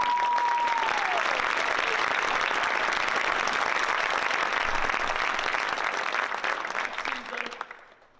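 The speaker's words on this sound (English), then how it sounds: "Give them two a big round of applause." A large crowd at a welcome-home event for a girls' basketball team back from the state tournament gives loud, sustained applause that holds steady for several seconds before tapering off at the end.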